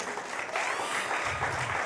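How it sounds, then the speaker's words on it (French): Audience applauding the guest of an interview, a steady wash of clapping that swells slightly after the first half-second and carries on alone to the end. "Est-ce qu'on peut encore l'applaudir une fois de plus?"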